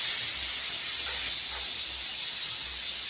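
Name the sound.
pressure cooker whistle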